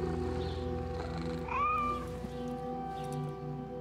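A cat meows once in Assassin's Creed Mirage, a clear rising-falling call over continuous game music and ambience.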